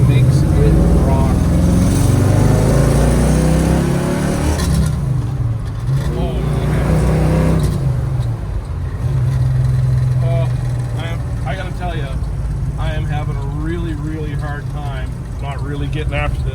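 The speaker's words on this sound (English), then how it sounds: "I'm gonna downshift it into second gear. And big block torque just makes it rock." A 1965 Chevrolet Chevelle Malibu coupe with a 500 hp 454 LS7 big-block V8 rumbles deep and loud as it downshifts into second and pulls away, its engine note swelling and easing, with talking over it.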